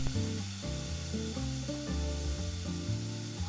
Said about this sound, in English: Let's add about 4 tablespoons of our batter to the hot pan.